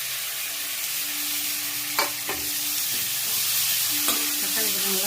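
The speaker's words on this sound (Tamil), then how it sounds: "தக்காளி போட்டு நல்லா ஃப்ரை பண்ணிவிட்டு" Tomatoes sizzle and fry in a pan for a Chettinad-style chicken gravy, a steady hiss with a few sharp stirring clinks near the start and toward the end.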